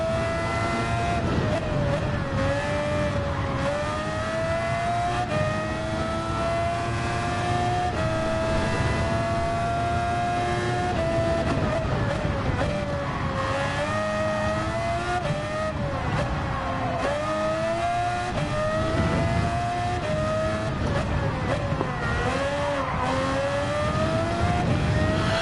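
Gran Turismo 7 race car engine howling close up, pitch rising and falling repeatedly as the car accelerates, shifts and brakes through corners, with brief tire squeals and no voices.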